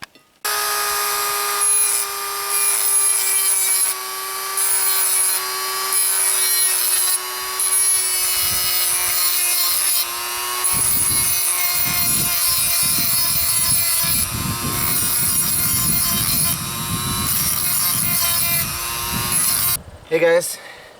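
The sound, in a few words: Tech Life rotary tool with sanding disc sharpening grass trimmer blade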